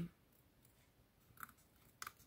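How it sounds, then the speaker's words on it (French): Small pincer scissors snip through a cut-out stamped turtle on paper, giving two quiet, brief clicks near the middle and end over faint room hiss, close by and soft. "j'utilise mes petits ciseaux pinces"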